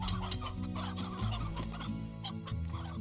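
Briar chickens clucking in the Slime Rancher video game, a busy overlapping chorus of many hens clucking close and continuous over a droning music bed.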